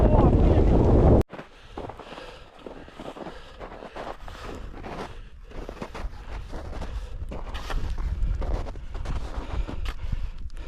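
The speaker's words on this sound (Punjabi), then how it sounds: "ਹਵਾ ਚੱਲਦੀ ਆ ਫਿਰ ਜਦੋਂ ਸਾਨੂੰ ਚੱਕ ਚੱਕ ਮਾਰਦੀ ਆ" Winter wind sweeps the summit of Mount Lawrence Grassi near Canmore. A loud buffet hits the microphone first, then a dip, then gusty roaring that builds again, with faint voices underneath.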